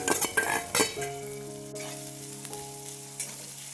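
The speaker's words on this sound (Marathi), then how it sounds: "आता लसूणच्या तेलामध्ये परतला की दोन मोठे बारीक चिरलेले कांदे घालून घेऊया" Finely chopped onions hit hot garlic-infused oil while cooking a dry Konkan-style shrimp dish, giving a busy sizzle and fry with sharp stirring clatter near the start, then a steady low hum of frying.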